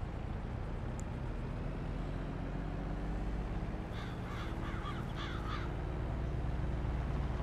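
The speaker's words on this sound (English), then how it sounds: "Hello, crows. Caw, caw." Crows in Farming Simulator 22 give several quick caws in a clustered burst midway, set over a steady low ambient rumble of the farm world.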